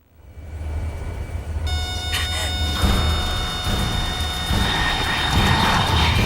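MiG jet aircraft roar in Metal Gear Solid 3, a broad engine rumble that swells and holds loud, with whining tonal lines layered on top.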